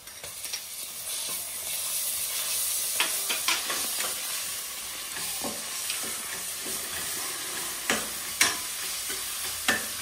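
Homemade ginger garlic paste sizzles and fries in a pan for a cooker biryani, a steady hiss with scraping strokes of a spoon stirring at irregular intervals, close and fairly quiet, no voices.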